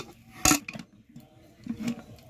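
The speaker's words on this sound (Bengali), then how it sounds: "আমি ঢাকনাটা বন্ধ করে দিব প্রেসার কুকারে।" A pressure cooker lid being closed in a home kitchen while frying puffed rice, with a sharp metallic clank followed by softer scraping and a second quieter clink, close and brief.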